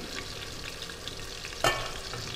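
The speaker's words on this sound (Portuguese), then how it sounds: "A lentilha também está fervendo." Lentils boil in a pot on the stove, a continuous bubbling, sizzling simmer at moderate level with one sharp clink near the end.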